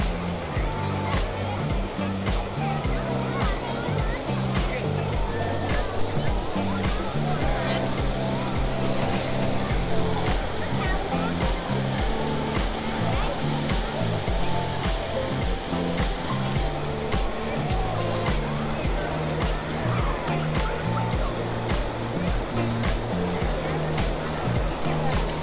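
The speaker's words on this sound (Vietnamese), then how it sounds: "khung cảnh tắm biển rất là đông vui, nhộn nhịp, náo nhiệt" A crowded weekend beach at Vung Tau, Vietnam, with steady surf and waves washing in, overlaid by a continuous busy hubbub of many voices and scattered noises across the whole stretch.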